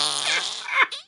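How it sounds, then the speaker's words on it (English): An Alexa smart speaker plays a frosty Christmas fart sound effect, a short, fairly loud, buzzy and wet-sounding blurt lasting about a second, heard alone. "Listen to this frosty Christmas fart."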